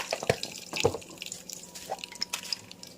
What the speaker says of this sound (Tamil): எண்ணெய் நல்லா சூடாச்சு. இதில் வந்து கொஞ்சம் கடுகு